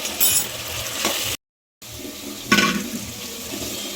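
Spices with turmeric and black pepper frying for vegetable pulao, a crackling sizzle with stirring scrapes, broken by a brief silent gap before the sizzling and a louder stir resume.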